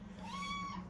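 A pet cat meows once in a long, drawn-out call with a rising then falling pitch, close by, over a steady low background hum.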